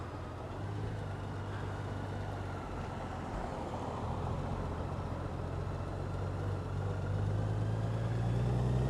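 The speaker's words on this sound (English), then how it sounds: "Do a U-turn with this 2018 Goldwing Tour DCT" A 2018 Honda Goldwing Tour DCT motorcycle makes a U-turn, its engine a low, steady rumble under wind noise, the hum rising slightly near the end.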